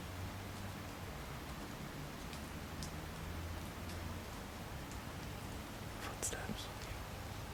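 Steady patter of rain falling through the trees, a dense wash of drops with a few sharper drips standing out near the end.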